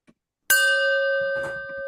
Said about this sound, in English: So here comes the chime and God call.